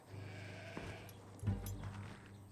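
A sheep bleats during shearing on a farm, its low cries rising to a louder bleat midway and trailing off under a steady background hum.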